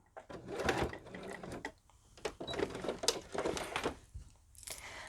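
A sewing machine runs a back stitch through vinyl on a project bag, with short irregular bursts of motor whir and needle clatter separated by brief pauses, close and alone.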